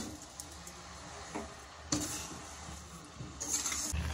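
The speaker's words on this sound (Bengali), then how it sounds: "ভালো করে এরকমভাবে নেড়ে নেবেন যাতে চিনিটা গলে যায়।" Carrot halwa being stirred in a pan as sugar melts into it, soft scraping and occasional utensil clinks against the pot, quiet and close, with a low frying hiss underneath.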